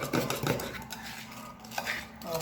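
A spoon stirs pudding mix and water in a mug, scraping and clinking against the sides in a few quick strokes, close up with a short pause in the middle.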